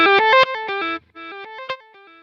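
Electric guitar through a Quad Cortex reverse delay in flip mode: a bright, distorted run of notes stepping downward and then back up, each note swelling and repeating, with a short gap before the pattern returns.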